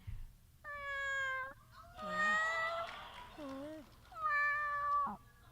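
A person imitates a cat, giving three drawn-out, close, clear meows separated by brief pauses, with no background noise.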